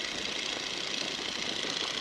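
A 1942 Boeing Stearman biplane's engine throttled back to reduced power in level flight, a steady broadband drone with no voices.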